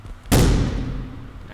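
A single loud shotgun blast in the video game The Final Station, with a sharp onset and a long booming decay that fades over about a second.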